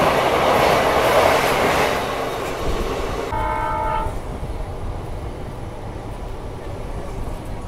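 The Vijayapura to Mangalore special train 07377 rolls into Mallapura station with a loud, sustained rumble, and a long horn blast sounds partway through as the train noise continues, with no voices.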